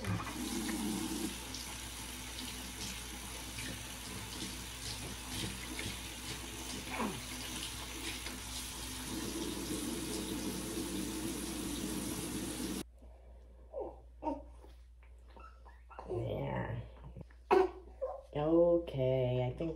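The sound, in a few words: water running from a tap, rinsing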